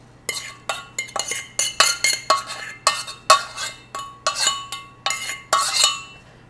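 A utensil stirs cooked rice into sausage in a skillet, giving a steady series of bright metallic clinks and scrapes roughly three times a second, close and moderately loud, with no voices.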